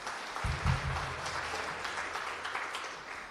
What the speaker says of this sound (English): And one applause for Maya for moderating this discussion